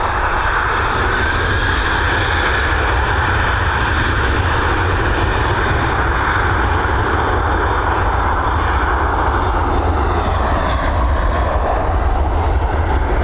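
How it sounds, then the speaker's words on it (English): Boeing 737 jet engines at Dublin Airport, a loud continuous roar and rumble that holds steady for several seconds without any voices. "She's 12 years old, this Boeing 737."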